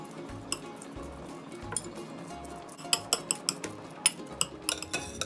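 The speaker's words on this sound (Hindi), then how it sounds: "आपां नाल ही अपने मटरां नूं चंगी तरह मैश कर लांगे" Boiled peas mashed in a pan with a masher. Light metallic clinks and taps repeat irregularly over soft low thumps, close and moderately quiet, with no talking.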